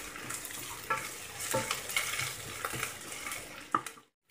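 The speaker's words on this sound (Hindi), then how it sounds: "अदरक लहसुन का पेस्ट भी हम इसमें ऐड कर देंगे और इसे हम अच्छे से भून लेंगे।" Ginger garlic paste fries in oil with curry leaves and green chili for a dal fry tadka, giving a close, steady sizzle with scraping stirs and light utensil knocks before cutting off abruptly.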